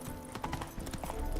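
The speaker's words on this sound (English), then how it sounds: "This is far enough to summon my horse." Hooves of Geralt's horse Roach from The Witcher 3 clip-clopping in a steady trotting rhythm, close and clear over light game ambience, with no talk.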